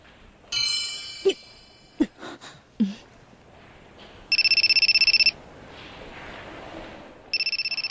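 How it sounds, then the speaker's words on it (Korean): A mobile phone belonging to a gang leader rings in a dubbed Hunter x Hunter anime, heard as two bursts of electronic ringing after some scattered clicks and knocks, fairly clear against a quiet background. "단장의 휴대폰인데?"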